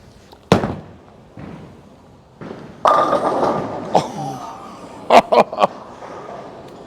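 A bowling ball is rolled down the lane and crashes into the pins, the impact a sharp clattering burst followed by scattered rattles of falling pins amid quiet alley ambience.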